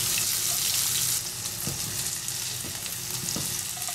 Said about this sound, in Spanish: Le añadimos un poco de sal y a esperar que se dore.